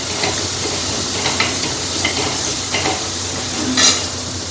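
Tindora sizzling and frying in a pan while being stirred, a steady bed of hiss and crackle broken by soft scraping strokes of the spoon at regular intervals and one louder burst near the end.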